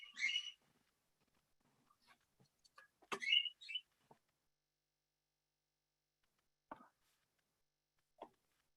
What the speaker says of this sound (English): there's a bird chirping in her ears.